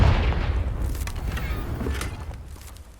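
Confringo fire spell explosion in Hogwarts Legacy: a single loud, deep boom at the start that rumbles and fades over a few seconds, with a faint crackle trailing behind.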